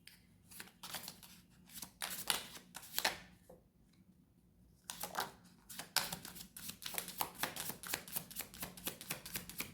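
Tarot cards shuffled by hand in a quiet room, a run of crisp riffling bursts and flicks that repeat unevenly, close and fairly soft, with a brief pause midway before the shuffling resumes more densely.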